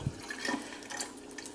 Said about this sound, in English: Turn my water off.